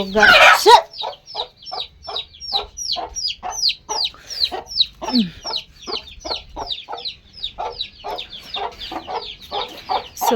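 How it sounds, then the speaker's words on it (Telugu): A hen gives a long series of rhythmic, sharp clucks at close range, repeated steadily with short gaps after a brief loud burst at the start, in a backyard poultry setting. "ఈ కోడిది ఒక పిల్ల కుడితిలో పడ్డదండి దాని ఊక పొడుస్తుంది"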